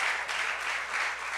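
A church congregation claps for the Lord during an anniversary service, a brief, dense, even burst of applause with no one speaking over it.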